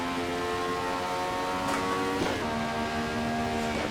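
An 11k RPM Honda race car engine screams at high revs around the VIR circuit in the racing game Assetto Corsa, a steady loud harmonic whine that dips briefly with gear shifts.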